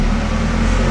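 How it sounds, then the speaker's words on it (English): Dyno rollers turning under a Toyota Hilux with the 1KD engine, a loud, steady mechanical drone with a low humming rumble filling the whole short moment, close and without talk. "so we start to turn the rollers"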